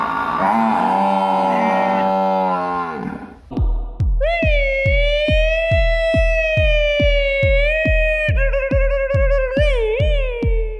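A person's voice imitates an ambulance siren, a loud wavering wail held over a steady pulsing beat, after a burst of strained singing.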